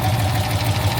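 A Daimler Majestic Major Hemi V8 limousine engine idles smoothly, a loud, steady low rumble with an even pulsing beat, close and continuous with no voices.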